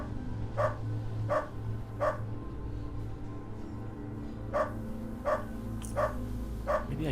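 Dog barking in the video game Underrail: a run of sharp, evenly spaced barks, three early and four more after a pause, over a steady low ambient hum.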